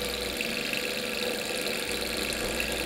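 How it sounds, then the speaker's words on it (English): A small Stirling hot air engine runs with a DC generator attached, a steady mechanical whir and faint knocking hum that continues evenly without pause, with no talking. "It runs just on the air that's captured inside of the motor itself. It's also known as a hot air engine."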